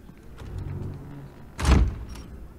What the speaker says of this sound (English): Didn't have to slam the door so loudly.